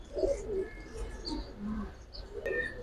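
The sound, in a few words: pigeon chick cooing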